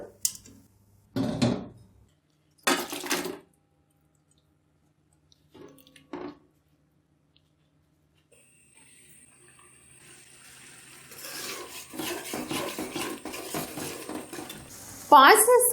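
Cooked mutton goes into a kadhai to be fried, starting with a few sharp metal clanks of pot and utensil. Then a sizzling hiss builds and holds steady, with stirring scrapes and a louder clatter near the end, and no voices.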